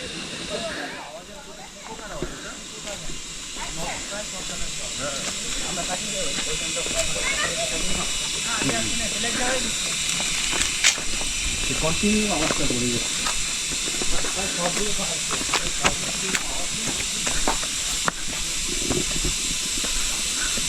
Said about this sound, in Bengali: এদিকে ঝর্ণার জলের শব্দ